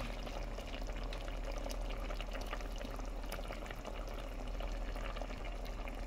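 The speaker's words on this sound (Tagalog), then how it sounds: "Ayan, nakulo na siya." Coconut milk boils in a pot, a steady dense bubbling and hissing simmer that stays even and continuous at close range.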